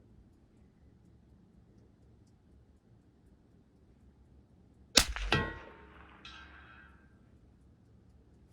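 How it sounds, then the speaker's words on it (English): A single rifle bullet from a Bergara B14R striking a steel target at 200 yards, a sharp distant metallic clang with a ringing tail, heard alone against quiet outdoor background. "hitting low because I can hear it hitting the metal."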